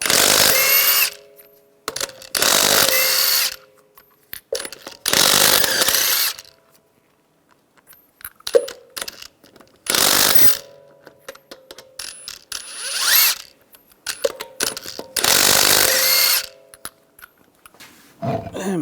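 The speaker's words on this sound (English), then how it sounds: "use a 22mm socket, take the lug nuts off." Power tool with a 22mm socket spinning lug nuts off a Ram 1500 front wheel: a series of loud, close ratcheting bursts, each lasting about a second or two and separated by quiet gaps.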